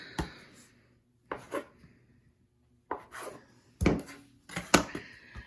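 Olive oil flatbread dough is cut into six balls on a work surface, giving sparse, soft scraping and chopping knocks with short pauses between them.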